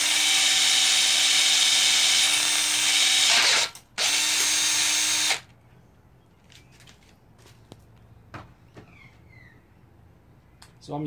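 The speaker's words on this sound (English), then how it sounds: "I'll drill it out" A loud, steady power drill whines for several seconds, stops briefly, runs again, then cuts off, leaving faint clicks and light tapping, while drilling out a metal oil gallery plug on an MGA/MGB engine.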